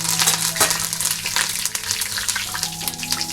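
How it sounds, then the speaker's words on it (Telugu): Steady crackling sizzle of raw chana dal, dried red chilies, mustard seeds and cumin frying in hot oil, with scattered sharp pops and stirring noises, close by and without talk. "పచ్చిశనగపప్పు ఎండుమిర్చి ఆవాలు జీలకర్ర వేసుకుని వేయించుకోవాలి"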